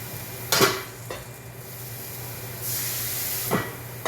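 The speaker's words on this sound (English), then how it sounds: "We're gonna hit it with some water, and we're gonna steam it" Water splashed into a hot pan to steam a bun for a Texas-style Philly cheesesteak hisses in two sharp bursts, each followed by softer sizzling, with a light clank of metal in between.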